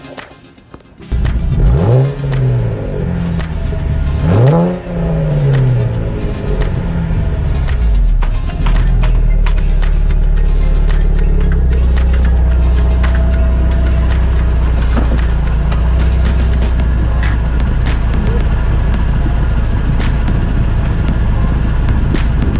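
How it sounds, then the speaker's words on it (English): Cadillac CTS Coupe with a Borla exhaust, heard from inside while driving: two sharp revs climb and fall early on, then the engine settles into a steady, loud drone under acceleration with clicks and rattles over it. "so you can hear the exhaust from the bottom of the car and from behind the car"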